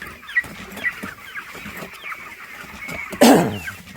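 Broiler chickens cluck and call inside a poultry farm, several short squawks scattered across a low, busy background of birds, ending in a louder burst of spray or flapping up close.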